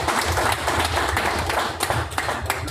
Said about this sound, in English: I don't think we have clapped for our guests